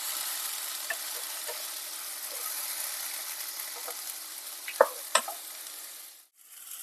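Chopped tomatoes cook with fried onions in a pan, giving a soft continuous sizzle with a few sharp stirring knocks near the end before it briefly dies away.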